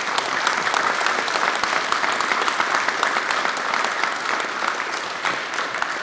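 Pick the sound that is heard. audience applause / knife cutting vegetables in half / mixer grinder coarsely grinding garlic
audience applause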